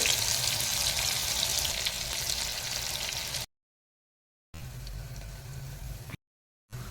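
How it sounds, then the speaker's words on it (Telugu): Green chillies and onions fry in a pan for dal khichdi, a steady broad sizzle that cuts out twice into brief silent gaps before resuming. "వేగిన తర్వాత పచ్చిమిరపకాయలు, ఉల్లిపాయలు ఈ రెండు కలిపి వేగనివ్వాలి."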